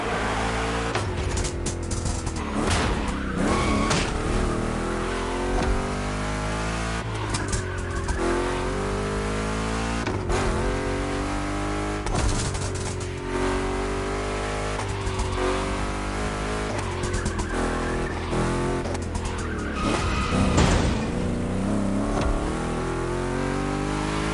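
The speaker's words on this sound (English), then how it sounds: "Two Chevys, two big blocks, but only one winner." Two Chevy big-block cars racing in The Crew Motorfest, loud engines revving and shifting pitch through gear changes, with tire squeal, sustained close for over twenty seconds without talk.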